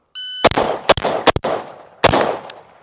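Loud, close gunshots fired in a target transition drill, a timer beep followed by a rapid pair, another pair, then a single shot after a pause, each crack ringing out briefly, with no talking.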